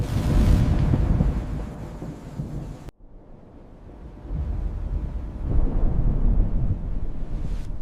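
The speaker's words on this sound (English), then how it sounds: "The storm is sitting on us now." Thunder from a storm above a Himalayan cliff village high on a 2,000-metre ridge: a loud, close, rolling rumble breaks off sharply, then builds again into a second heavy roll with wind and rain noise.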